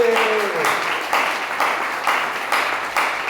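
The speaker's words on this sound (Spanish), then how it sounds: "Denle un aplauso." Congregation in a Sunday church gathering bursts into sustained applause, a dense wash of clapping with a voice briefly heard at the start.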